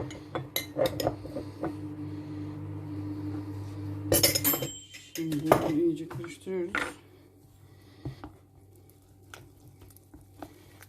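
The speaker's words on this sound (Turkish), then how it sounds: "kakao yağının içerisinde kakaoyu iyice karıştırana kadar eritiyoruz" Metal utensil clinking and scraping against a pot while cocoa is stirred into melting cocoa butter, with scattered taps and clatters over a low steady hum and a louder burst of clattering midway.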